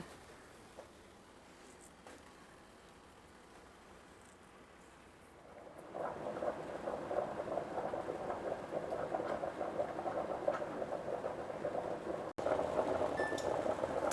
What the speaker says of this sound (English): So I have my water boiling.